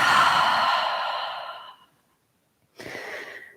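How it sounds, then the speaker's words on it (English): During a morning yoga practice, a person lets out a long, deep exhale through the mouth, close to the mic. It fades out, and after a short silence a second breath follows. "Take a deep inhale in through the nose. And exhale through the mouth."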